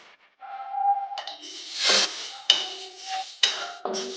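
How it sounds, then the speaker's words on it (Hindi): Flaxseeds roast in a kadhai while being stirred constantly, giving a close dry rustling scrape with sharp knocks of the spoon against the pan and soft sizzle between strokes. "अलसी भूनते समय इसे लगातार चलाते रहना चाहिए, नहीं तो फिर ये बिल्कुल कढ़ाई में लग जाएगा"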